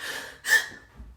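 A voice imitates heavy breathing with a sharp, loud gasping inhale in the middle, framed by softer breathy exhales, close and alone.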